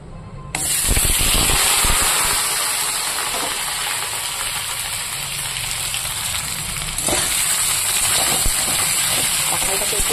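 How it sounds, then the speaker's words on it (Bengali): Boiled jackfruit hits hot oil in a wok with a sudden loud hissing sizzle that holds steady and close for several seconds, surging again briefly as more goes in, with a voice faintly underneath. "এই তেলে ভেজে নেব কাঁঠাল।"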